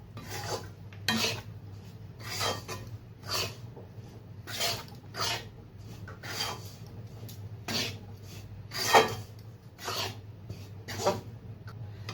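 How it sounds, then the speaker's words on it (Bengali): Rice flour being stirred and fried in melted ghee in a pan for banana-leaf steamed bhapa pitha, with a dry rasping scrape of the spoon repeating in steady strokes, close and fairly quiet over a low background hum. "চালের গুঁড়ো দিয়ে ভালোভাবে ভেজে নেবো"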